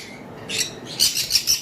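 Small pineapple conure parrots give a few sharp, raspy chirping calls close by, one brief burst followed by a quick series of three or four.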